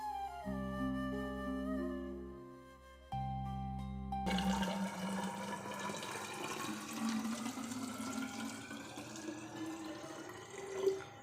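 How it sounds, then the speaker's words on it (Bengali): Water poured onto a potted tulsi plant outdoors: a short musical intro, then a steady, close splashing and trickling pour that runs to the end. "এবার একটু জল দেব তুলসী গাছে"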